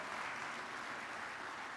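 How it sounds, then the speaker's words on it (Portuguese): Church congregation applauding during a sermon, a steady dense wash of clapping with no break, moderately loud throughout. "Dá um aplauso, mais um aplauso para ele em nome de Jesus."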